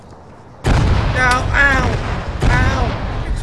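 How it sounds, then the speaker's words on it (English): Heavy booming blasts in the video game Arma 3 burst in abruptly, a second one following a couple of seconds later, while a voice yells in pain over the racket. "Explosions!"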